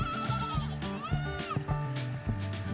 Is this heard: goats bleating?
yes